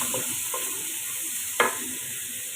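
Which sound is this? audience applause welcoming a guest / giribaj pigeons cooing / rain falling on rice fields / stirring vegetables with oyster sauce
stirring vegetables with oyster sauce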